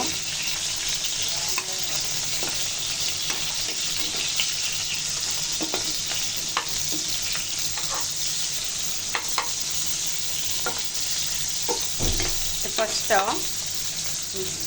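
Hilsa fish tails frying in mustard oil give a steady, close sizzle, with scattered clicks and scrapes as the pieces are turned over partway through.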